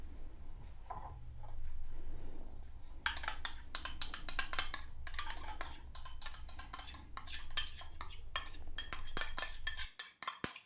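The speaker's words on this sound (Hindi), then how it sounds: "ये मैंने डाल दिया है दही।" Yogurt spooned into a large bowl, heard as a quiet series of light clinks and scrapes of a spoon against the bowl, close but faint.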